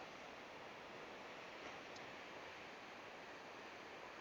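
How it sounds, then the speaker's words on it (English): Sea waves crashing against tall coastal cliffs at St Abbs, heard as a steady, distant roar of surf with some wind noise, continuous and fairly faint. "You can hear the waves crashing over there."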